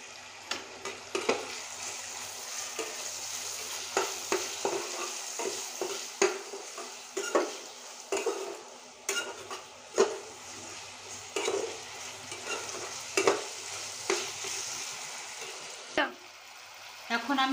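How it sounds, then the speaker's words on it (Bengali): Chopped tomatoes with salt sauté in a pan, sizzling softly under repeated scraping and clinking strokes of a spatula at an uneven pace, heard close and with no speech. "এখন আমি টমেটোটা কষিয়ে নিয়েছি"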